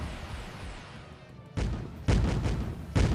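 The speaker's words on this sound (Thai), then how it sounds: "เห็นไอ้พวกยิงเครื่องยิงลูกระเบิดละ" Grenade launcher rounds explode in a mobile shooter game: three heavy, booming blasts land in quick succession after a quieter stretch of background noise.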